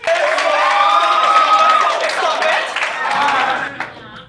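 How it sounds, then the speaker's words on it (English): A crowd at a church youth event claps and cheers with scattered whoops, a dense burst of applause that tapers off toward the end, with a voice speaking over it. "Please give them a round of applause."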